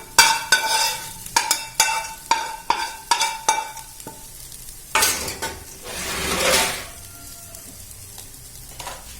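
Cooked rice and fish masala for Kerala-style fish biryani being stirred in a pot: a run of sharp, rhythmic spoon scrapes and clinks against the metal, then softer mixing noises and a longer rustling swirl.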